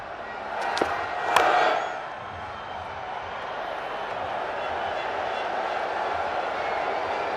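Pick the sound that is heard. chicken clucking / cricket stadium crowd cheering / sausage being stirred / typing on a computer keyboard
cricket stadium crowd cheering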